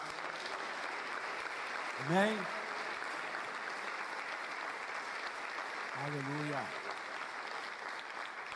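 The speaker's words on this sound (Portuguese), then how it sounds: "Você pode aplaudir ao Senhor?" A church congregation applauds during a sermon, steady clapping running underneath as a man calls out to them twice, the applause sustained at a moderate level throughout.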